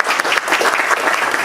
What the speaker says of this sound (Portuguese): Eu vou pedir mais uma vez que o saudemos com uma grande salva de palmas.